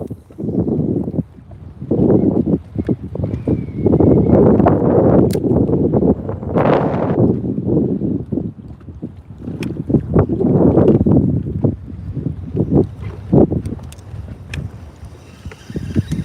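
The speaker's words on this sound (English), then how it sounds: "Can you guys hear that wind? Put wind in the chat if you can hear all of that wind blowing." Gusty wind rumbles across the microphone while out bass fishing on the water, coming in repeated loud blasts separated by brief lulls.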